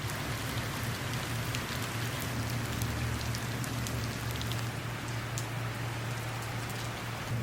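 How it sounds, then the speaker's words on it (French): Steady rain pours down continuously, a dense hiss of drops with a faint low hum underneath, no voices. "je vais sortir pour entendre le son de la pluie"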